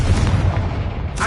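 A Confringo blasting spell detonates in Hogwarts Legacy, a loud, dense booming burst with heavy low rumble filling the moment, then a brighter crackle flaring at the very end.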